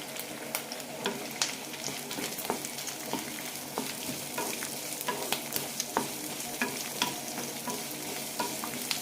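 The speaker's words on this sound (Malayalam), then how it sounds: "സവാള ചെറുതായി ചുവക്കുന്നവരെ വഴറ്റിയെടുക്കാം." Onions sizzle and fry in an oil pan for a Kerala drumstick dish, with steady crackling under regular scraping and stirring strokes from a spoon, close and continuous throughout.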